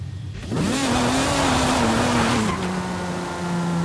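Race car in Forza Horizon 5 accelerating hard, its engine note climbing into a steady loud roar, then shifting down to a lower drone as the car keeps driving, with hints of tire noise.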